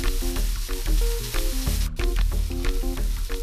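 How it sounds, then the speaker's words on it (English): Onion and garlic sauté in a hot pan, giving a loud, steady sizzle with brief stirring scrapes, close and uninterrupted, while soft music plays underneath and no one speaks. "I got my onion in, sauteing"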